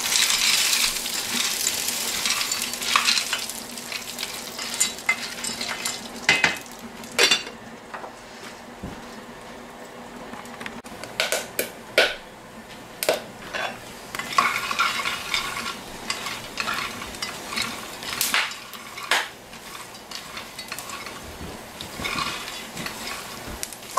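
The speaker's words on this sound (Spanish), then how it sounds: "Esto lo tenemos que estar revolviendo constantemente, no tenemos que descuidarlo porque se nos quema" A spoon constantly scrapes and clinks through a cooking mixture in a pan, with frequent close metallic knocks over a low, steady sizzle.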